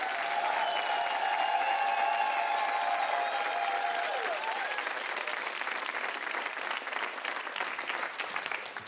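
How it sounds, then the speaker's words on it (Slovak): A studio audience on the Slovak television show Milujem Slovensko claps in sustained, dense applause for about nine seconds, loud throughout, with a brief tone audible early on. "veľký potlesk zo štúdia Milujem Slovensko pre Dominika Hrbatého."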